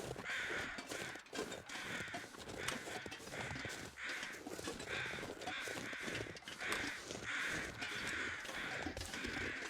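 Crows caw repeatedly in the outdoor wilderness of the survival video game The Long Dark, harsh calls recurring in a steady rhythm over a constant windy, rustling ambience, with no talk.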